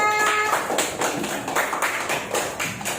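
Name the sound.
applause for a presenting group in class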